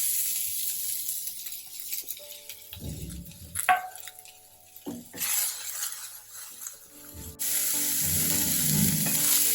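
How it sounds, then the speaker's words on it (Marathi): Onion roasting in a pan for a spicy modak amti curry, with coconut and garlic roasted just before. Sizzling and frying noise holds steady throughout, broken by a few clinks and scrapes of a utensil. No one speaks. "आपल्याला कांदा भाजून घ्यायचा"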